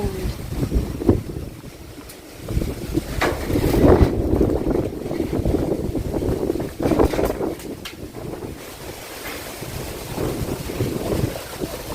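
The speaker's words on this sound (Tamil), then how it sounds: "எப்படி அடிக்குது ஒரு காற்று." Strong wind blows outdoors with no rain. Gusts roar and buffet the microphone, swelling and easing over twelve seconds as a low, rumbling rush.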